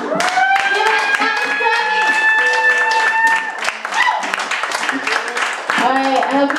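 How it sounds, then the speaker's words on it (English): Audience at a poetry open mic claps for the poets, a steady close patter of hands running under a loud voice speaking over it. "give a one last round of applause for every poet who's touched the mic tonight"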